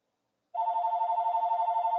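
A telephone rings in the background with a steady, warbling electronic trill that starts abruptly after a moment of silence and keeps pulsing evenly to the end, with no talk over it.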